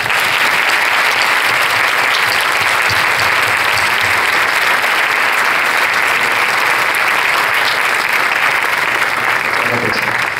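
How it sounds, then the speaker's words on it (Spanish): Steady, dense applause from a conference audience at an investment fund panel fills the whole stretch, loud and unbroken from start to finish. "Un aplauso para todos."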